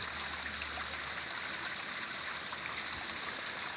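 A small waterfall and stream along the Pacific Crest Trail near a forest road give a steady, close, full rushing hiss of falling water that runs unbroken throughout, with no talk.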